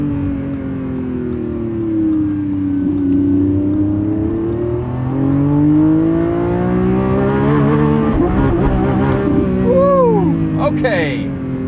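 Lamborghini Revuelto 1,001 hp V12 revving hard toward about 8,500 RPM, a loud close engine howl rising in pitch with gear-change dips near the end, under a driver's talk.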